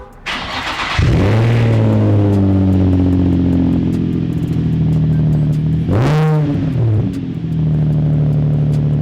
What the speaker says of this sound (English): first I'm gonna give you guys a little cold start because this thing sounds so good.